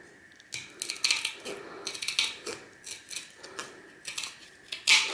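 Gold fingers being trimmed off RAM chips with cutters: a run of close, crisp snips and clicks in irregular bursts, about a dozen cuts, fairly quiet with small metallic rattles between them.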